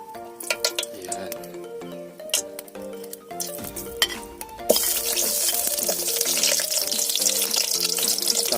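Garlic frying in a pan for scallop adobo, with steady sizzling that surges loudly about halfway through as it hits the hot oil, accompanied by a few clinks of utensils against the pan; no talking.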